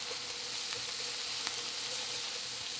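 Chopped onions and garlic frying in a pan for brown gravy, a steady close sizzle with faint crackles and occasional pops, no voices.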